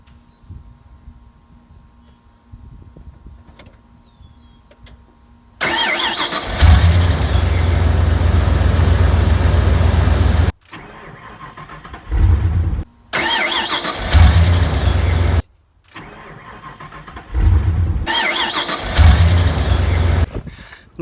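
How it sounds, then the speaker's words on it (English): A 1996 Ford F350 with a 460 gas V8 cold starts with loud cranking and catches into a heavy rumbling idle, then a few more crank-and-run bursts separated by short quiet gaps, close and loud. "This is a cold start on a 1996 Ford F350 with a 460 gas motor."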